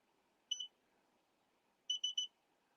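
One short electronic beep from an embroidery machine followed later by three rapid beeps in a row, bright and high-pitched against near silence.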